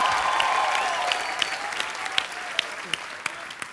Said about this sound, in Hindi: एक बार जोरदार तालियां हो जाए नूरा सिस्टर्स के लिए